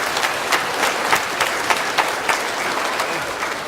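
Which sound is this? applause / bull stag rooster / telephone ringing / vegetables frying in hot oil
applause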